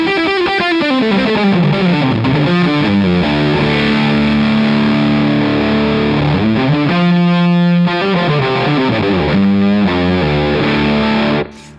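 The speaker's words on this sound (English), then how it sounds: "you can go from like low gain overdrive sounds up to really fuzzy, full sounding distortion sounds" Electric guitar played through a Crazy Tube Circuits Motherload distortion pedal, thick saturated sustained chords and bends ringing continuously at high volume, with no talking.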